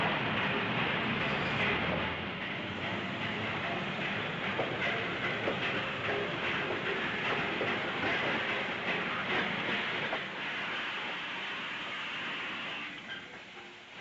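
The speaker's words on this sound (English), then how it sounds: "We seem to be destined to meet at the railway station." Train at a railway station in a 1948 film scene set in Cannes, a continuous rumbling hiss of rolling carriages with faint clicking, steady and prominent before easing near the end, with voices mixed in.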